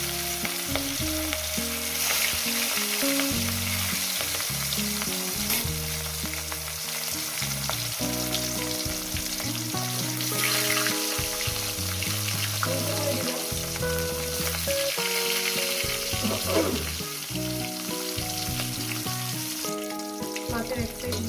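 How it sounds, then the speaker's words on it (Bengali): Fish for a spicy Bengali fish curry fries in hot oil, giving a steady, continuous sizzle that sits beneath loud background music for the whole stretch. "মাছের এক সাইড হয়ে গেছে, একটা সাইড উল্টে দেবো।"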